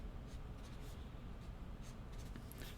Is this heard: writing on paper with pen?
yes